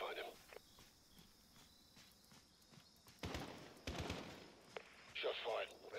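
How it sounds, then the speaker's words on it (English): Gunfire in the Call of Duty: Modern Warfare campaign: a few sharp, close bursts of shots in the latter half, over a quiet night ambience with insect-like chirping and brief talk. "Shot fired."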